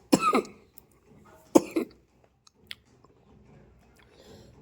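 A woman coughs twice in quick, harsh bursts close to the mic, followed by faint clicks and quiet rustling in an otherwise calm setting.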